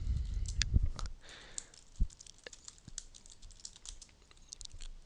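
Rapid clicking keystrokes on a computer keyboard as a command is entered in a terminal, close and crisp with a few heavier taps, no talking.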